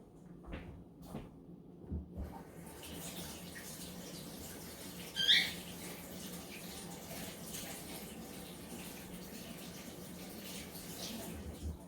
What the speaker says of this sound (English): So I'm going to wash my hands really quickly.